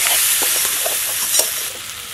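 Prawns coated in spice paste sizzle steadily in a village-style pan while being stirred, with a constant bright frying hiss and soft scraping strokes throughout.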